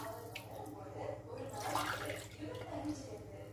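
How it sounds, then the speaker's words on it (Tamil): Water is poured into a pot for tapioca biriyani with soaked basmati rice, a soft continuous splashing and gurgling that plays under a low hum. "அதனால் வந்து 3 டம்ளர் வந்து நான் தண்ணி ஊற்றிக்கிறேன்"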